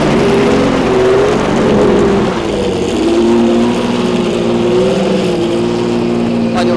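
A sports car engine revs with a loud, throaty, wavering note that rises and falls, dips briefly, then climbs again, with a faint voice in the background.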